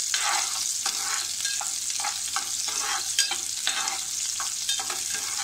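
Onion sautéing in a pan for a yam masala bhaji, a steady loud sizzle with rhythmic stirring scrapes throughout, no talking.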